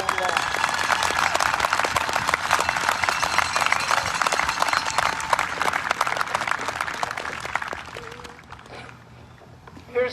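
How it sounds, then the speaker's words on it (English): A ballpark crowd applauding the Dartmouth team, a dense steady burst of clapping that holds for about eight seconds, then thins and fades away. "I would like us all to give Dartmouth a round of applause"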